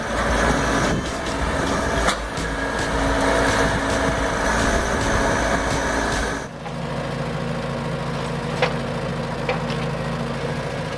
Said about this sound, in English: Demolition excavator.